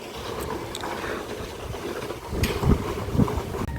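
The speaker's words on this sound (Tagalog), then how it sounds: "Sarap dito kasi mahangin." Wind gusts outdoors at a hotel, a steady broadband rush with low rumble and a few stronger buffets near the end, heard alone without speech.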